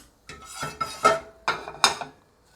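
Crispy fried eggplant pieces shaken in a metal sieve make three or four bright, rattling clattering bursts, close and fairly loud, before the sound fades to quiet.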